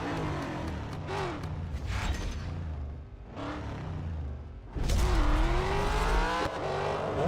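A race car engine in Real Racing 3 roars loudly, revving up and down through gear changes with a brief lull before surging again at full throttle.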